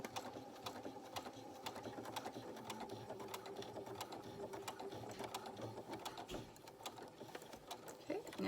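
A sewing machine stitches back and forth over a zipper on bulky upholstery fabric for a coin pouch, a rapid close mechanical chatter of needle strokes running steadily throughout.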